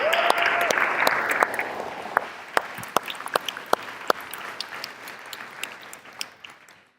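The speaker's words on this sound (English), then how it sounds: "I think a round of applause for them again, I think." A church audience applauds a choir and string players with a dense, steady round of clapping that thins out toward the end, where individual claps stand out.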